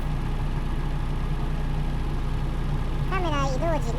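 Mitsubishi Lancer EX Turbo running at steady idle just after starting, a continuous low engine hum with a mechanical drone, close and constant throughout; a brief whining, warbling tone rises near the end.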